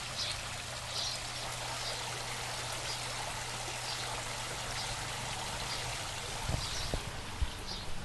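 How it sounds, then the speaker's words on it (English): Steady flowing water from an aquaponics waterfall splashing continuously into a grow bed, a constant trickling stream with a couple of brief knocks near the end. "we're just going to watch the waterfall."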